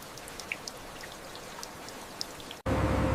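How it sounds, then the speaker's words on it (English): Light drizzle falls on a ship deck as scattered soft droplet ticks over a faint wash, then cuts abruptly to a louder, steady broadband rush. "Light drizzle cools the deck as the weather slowly shifts."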